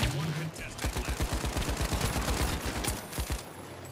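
Rapid automatic gunfire from a Heavy class player in the video game The Finals, a quick, punchy stream of close shots that slows into a few last rounds, with a little talk.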